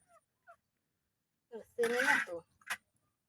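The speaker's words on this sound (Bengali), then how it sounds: "ওই বড় মুরগিটা দুইটা দাওয়াইতেছে" A large hen chasing two other chickens lets out a loud squawking burst after a few faint clucks, then one short sharp cry, with near silence around the calls.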